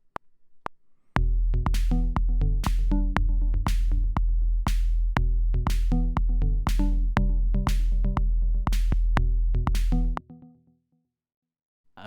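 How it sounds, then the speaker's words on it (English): Electronic snare hits for an EDM beat are layered over a steady four-to-the-floor kick, arriving after a short quiet lead-in, then punching loudly and regularly alongside the thumping pulse before stopping abruptly. "next I'm going to layer up with some snares and it's going to sound like this."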